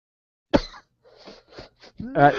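One sharp, close cough, followed by a few quieter breathy sounds and then a voice beginning to speak.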